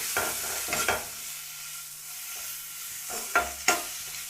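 Turmeric, coriander and chilli powders being stirred into a frying mixture in a pan for potato rice, a few distinct scraping stir strokes over a soft, low sizzle, with quiet pauses between bursts.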